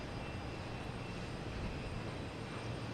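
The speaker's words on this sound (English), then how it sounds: "But we have JetBlue coming in from Orlando. An A320." A JetBlue Airbus A320 airliner arriving from Orlando at Boston Logan Airport gives off a constant, broad jet engine roar, fairly close and steady for the whole stretch, without talk.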